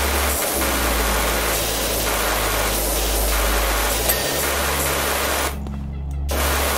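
Steady broadband hiss of a pressure washer spraying water in the PowerWash Simulator video game, continuous and loud over a low hum, briefly cutting out near the end before resuming.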